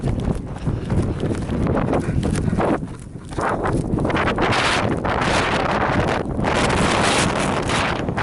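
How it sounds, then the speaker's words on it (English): Steady, roaring wind buffets the microphone with rumbling gusts throughout, loud and close, with no voices, on an alluvial plain along the Wonderland Trail at Mount Rainier. "It is windy."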